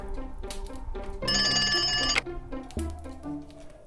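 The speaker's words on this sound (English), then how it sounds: "the phone's ringing." A telephone bell rings in a bright, sustained burst, with softer musical tones before and after it.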